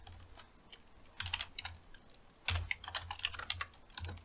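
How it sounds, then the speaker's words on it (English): Fingers tap quickly on a computer keyboard in short irregular bursts of close, crisp clicks, with no voices. "let's go ahead and type in invoke mimikatz"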